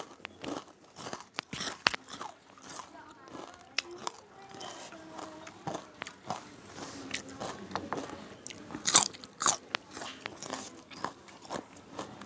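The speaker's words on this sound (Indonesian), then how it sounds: "Ini tepungnya benar-benar kriuk ya." Crunchy bites into crispy battered fried eggplant, sharp crackling snaps repeated in quick irregular bursts, close and fairly quiet, with faint chewing between them.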